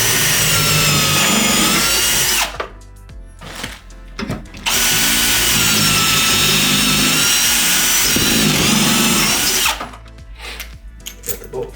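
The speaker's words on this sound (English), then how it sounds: "So we'll drill first." A power drill bores holes for mounting a Sanus SLF226-B1 full-motion TV wall mount, loud sustained whining bursts broken by two short pauses, close up.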